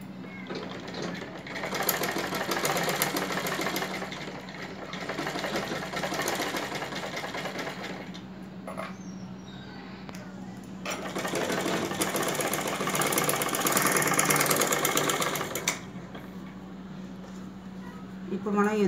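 A sewing machine stitches two pieces of a prince-cut blouse together, its steady motor hum running continuously with slight changes in speed.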